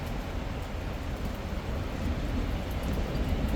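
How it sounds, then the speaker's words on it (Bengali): Heavy rain pours down in a steady, dense wash of noise that stays constant throughout, with no voices heard. "কি সুন্দর বৃষ্টি হইতেছে"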